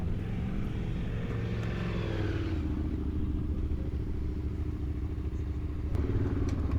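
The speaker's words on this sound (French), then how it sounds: "Et aujourd'hui, j'avais encore une autre moto." Motorcycle ridden during a rally in Morocco, a loud steady engine drone with harmonic whine close to the microphone, pitch dropping as the rider eases off partway and holding a constant hum to the end.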